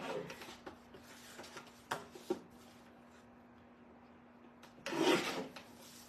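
Paper craft material is trimmed off camera, giving a few quiet rasping, sliding scrapes in short bursts. The strongest stroke comes near the end, with low room hum in between.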